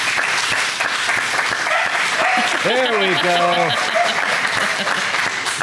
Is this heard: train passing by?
no